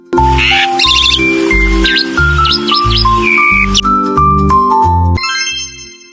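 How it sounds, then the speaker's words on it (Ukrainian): A starling sings a rapid, varied song of whistles, chirps and clicks, loud and close, with repeated phrases. "Це шпак. Шпаки справжні музиканти."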